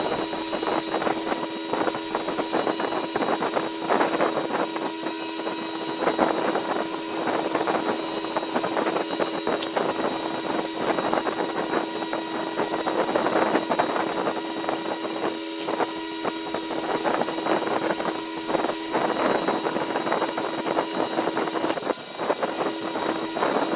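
A wooden Vertex Click pen blank spins on a lathe while being sanded with 150 grit, a steady whirring hum with a rough continuous scratching texture, close and unbroken for the whole stretch, no talking.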